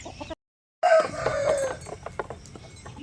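Native country chickens cluck close by and a rooster crows on a village farm in Tamil Nadu, with a brief silent gap near the start and steady farmyard bustle after.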